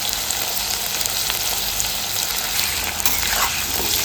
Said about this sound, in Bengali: ওলগুলোকে একটু লাল লাল করে ভাজতে দেবো মিনিট 5